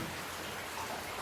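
Heavy rain pouring steadily outdoors, a dense, even hiss of drops with no pauses and no voices.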